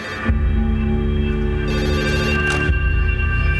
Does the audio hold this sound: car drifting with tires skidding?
no